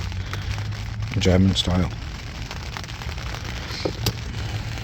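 Rain falls at a carp fishing lake in France, making a steady crackling patter on a nearby surface throughout while someone speaks briefly over it.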